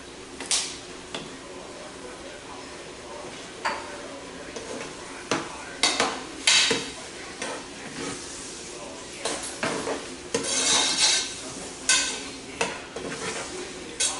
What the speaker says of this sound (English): These guys are sauteing up, smelling really good.